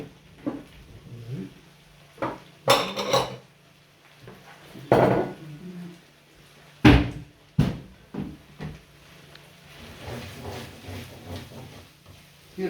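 Plates clatter and knock in a home kitchen where asparagus risotto is being finished, with sharp scattered clinks and bumps separated by quiet gaps.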